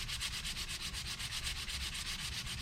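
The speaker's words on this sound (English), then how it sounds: "sand it down" Someone hand-sands a puttied frame with short, rhythmic scraping strokes, close and steady, with no talking.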